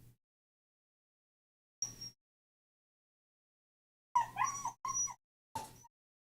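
A pet dog whimpers in a few short, whiny bursts, close by and fairly quiet, with silent gaps between the cries and no talking.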